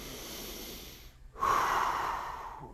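A deep breath drawn in through the nose during a core stretch, a quiet airy hiss, a brief pause, then a louder, fuller nasal inhale that gradually tapers off, close and alone.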